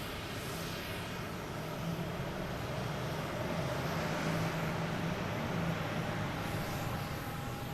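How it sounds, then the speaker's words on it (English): A Falcon 50 EX trijet private jet at Boston Logan Airport passes with a steady, distant broadband roar that swells only slightly over several seconds, with no talking. "we have a Falcon 50 EX, a mini trijet"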